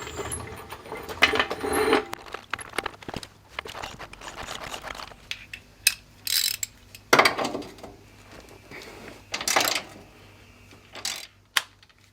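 Ratchet clicking as it tightens control arm bolts on a Subaru Forester XT, with short bursts of quick ratcheting and metallic tool clinks at close range.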